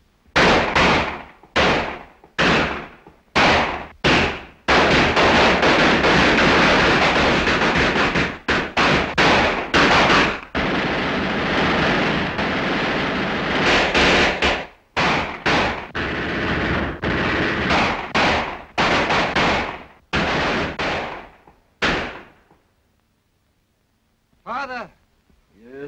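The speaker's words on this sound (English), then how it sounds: "Hands up or I'll shoot!" Gunfire in a 1936 black-and-white film comedy: a run of sharp, loud cracks and bursts repeating irregularly over about twenty seconds, mixed with shouting voices, then fading to near silence before a brief voice at the end.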